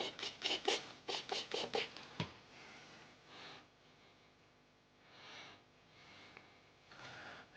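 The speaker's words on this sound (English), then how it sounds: "I'm just squeegee that out and squeegee all the other tack solution out" A squeegee pushes tack solution out from under paint protection film on a car fender, making quick rhythmic rubbing strokes up close that give way to slower, softer swipes.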